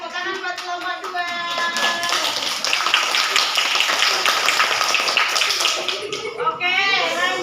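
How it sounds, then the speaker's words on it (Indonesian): A classroom applauds group 2 with sustained clapping from many hands, loud and dense for several seconds, while children's voices shout and chatter over it at the start and end. "Tepuk tangan buat kelompok 2."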